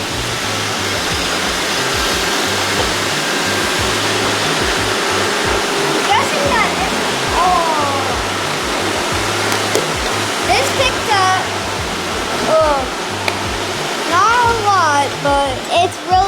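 An older Roomba robot vacuum cleans a dirty carpet with a loud, steady whooshing whir, overlaid by scattered high chirps and whines and occasional bumps.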